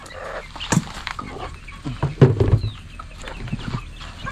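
Chickens cluck and squawk close by in a few scattered bursts, with faint rustling between calls.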